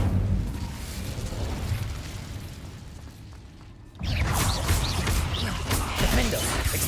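An Incendio fire spell cast in Hogwarts Legacy, inside a cave, with a sudden loud burst of crackling, rushing flame partway through after a quieter rumbling stretch.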